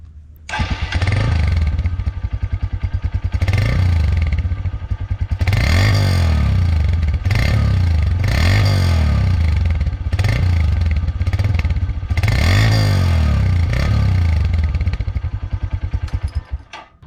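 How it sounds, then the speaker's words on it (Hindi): A Honda CB150F Special Edition 2022 motorcycle engine idling with a loud, close, even thump, broken by several sharp revs that rise and fall back to idle, running steadily for about seventeen seconds with no talk. "जो लोग ज़रा साउंड ऑब्सेस्ड हैं या जिनको साउंड का शौक़ होता है उनके लिए एक साउंड टेस्ट।"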